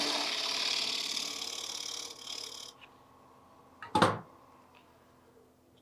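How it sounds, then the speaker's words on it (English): A 1/2-inch spindle gouge cuts a tenon on a green wood bowl spinning on a lathe, a steady scraping hiss for about two seconds, then quiet with a single loud knock. "Detail that tenon in with my 1/2-inch spindle gouge."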